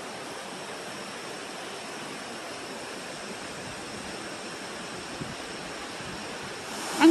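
A waterfall cascade at Huyck Falls in Rensselaerville, New York, on a preserve with old mill ruins, pours as a steady, broadband rushing roar at constant loudness with no voices.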